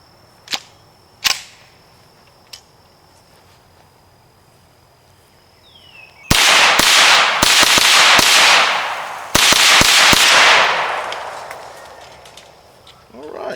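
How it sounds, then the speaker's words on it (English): A Just Right Carbines 9mm carbine fires 115 grain FMJ rounds, with two rapid bursts of loud sharp shots echoing outdoors, preceded by a few isolated clicks and quiet background. "this is some Defender ammo, just 115 grain FMJ, and about 10 or 12 rounds we're gonna put down range"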